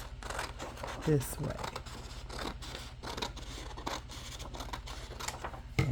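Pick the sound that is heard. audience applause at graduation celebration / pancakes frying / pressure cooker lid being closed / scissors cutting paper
scissors cutting paper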